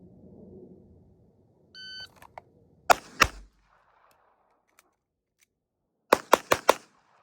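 Handgun shots on a range during a slide-lock reload drill: an electronic shot-timer beep, two sharp close shots, a pause for the reload, then a fast string of four shots.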